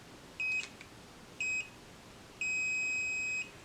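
Automatic cordless hair curler beeping at close range: two short electronic beeps a second apart, then a longer sustained tone lasting about a second, with light background hiss.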